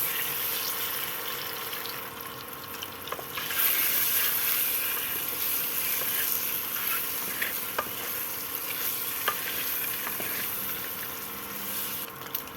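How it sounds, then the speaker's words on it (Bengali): Eggs frying lightly in a pan on an induction cooktop with a little turmeric, a steady soft sizzle with occasional stirring clicks running evenly throughout, close and moderate in level. "এবার দিয়ে দিলাম ডিম, হালকা করে ভেজে নেবো"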